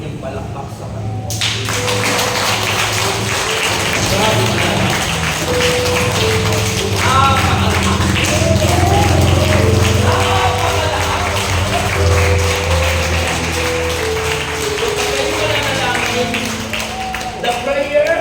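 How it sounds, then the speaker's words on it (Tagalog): A church congregation claps loudly and continuously, an indoor crowd applause lasting throughout, while a voice speaks and calls out over the clapping. "Grabe po ang inyong palakpak sa Panginoon."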